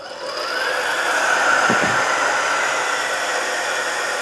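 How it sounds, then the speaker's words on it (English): A variable-speed coffee grinder grinds 18 grams of espresso beans with a steady, loud whirring hum that rises at the start and holds evenly, close and alone with no talk. "We're gonna throw it in the grinder."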